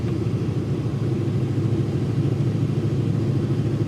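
A slammed dually pickup truck towing a trailer accelerates with a deep, steady engine rumble, close and continuous, with no talk.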